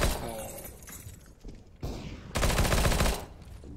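Gunshots in CS:GO ring out in several sharp bursts, the last and loudest a sustained volley of rapid shots close by, with a quieter pop and faint noise between them.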